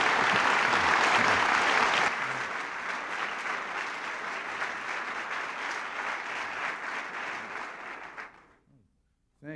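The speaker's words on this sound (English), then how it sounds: "I think George and I should be applauding you" Loud audience applause fills the room at a presidential event, a dense steady clapping that eases slightly after two seconds and then fades out near the end.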